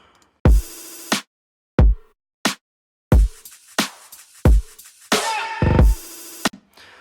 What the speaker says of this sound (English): So yeah, it's just a simple kick.